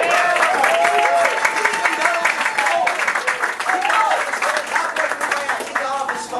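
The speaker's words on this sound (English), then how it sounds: "how about a round of applause for you for coming up here?" Audience applause at a lip sync battle, a dense steady wash of clapping and crowd noise that fills the whole stretch, with cheering voices rising above it and fading slightly toward the end.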